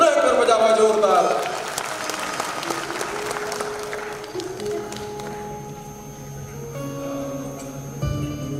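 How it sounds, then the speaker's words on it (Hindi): Loud, dense clapping from an audience at a Yadav community gathering in Chhattisgarh bursts out at once, then thins and fades over a few seconds as music and ambient noise take over. "वो टीम के लिए ताली पुनः कर बजावा जोरदार"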